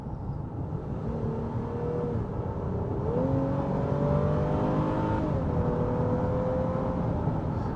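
Engine drone of a 2023 Honda Pilot Touring SUV under steady road and wind noise as it cruises on a highway, its pitch rising gradually as it speeds up toward 65 mph.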